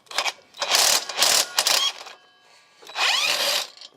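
Ratchet loosening a 17 mm bolt under the footrest of a Kawasaki VN900 Classic motorcycle: bursts of fast mechanical clicking and rasping, close and fairly loud, in three runs separated by short pauses.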